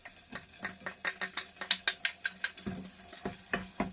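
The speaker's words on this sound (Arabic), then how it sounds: "بعد ما حمدنا الزيت نبدأ نقلب بيها ونضيف البصل" A spoon works through chicken liver and onions in hot oil in a pot, making a quick, steady series of scraping and clicking strokes, close and fairly loud, with no talking.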